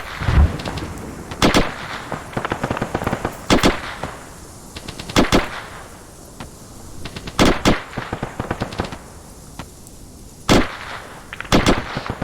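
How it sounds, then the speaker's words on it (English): Mortar fire in ArmA 3 during a platoon attack training session: a run of sharp, loud booms and cracks arrives in irregular bursts and clusters across the stretch, with rumbling tails between them. "They are indeed firing mortars, over."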